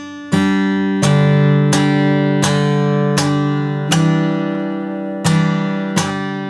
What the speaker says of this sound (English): So it's a slap and a flick at the same time.